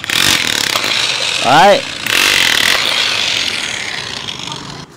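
A hammer drill set to chisel-only mode chatters in loud, harsh bursts up close, pausing briefly while someone speaks a short word before the tool resumes.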